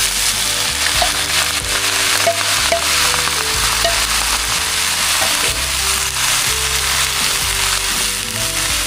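Shrimp and shredded cabbage sauté in a hot pan, giving a loud, steady frying sizzle throughout with occasional stirring scrapes, and a tonal music-like hum running underneath.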